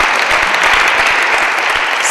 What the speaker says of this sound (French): On va applaudir pour ce beau message.